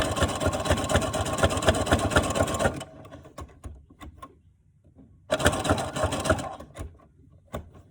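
A sewing machine stitches elastic in two fast bursts, close and steady, separated by a pause with light handling clicks.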